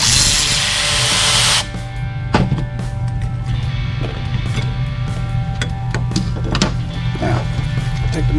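A power tool unbolts the wiper motor from its arm on a 2003 Saturn Ion, with a brief burst of whirring followed by ratchety clicks and metallic taps, close and loud.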